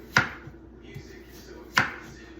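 A knife slices through apple pie filling into thin slices, giving two sharp, close chopping strikes about a second and a half apart with faint board taps between them.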